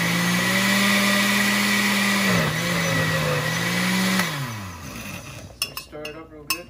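A kitchen blender whirs loudly, blending pandan leaves, its motor holding a steady drone, dipping and wavering, then winding down to a stop, followed by a few clattering knocks of the jar.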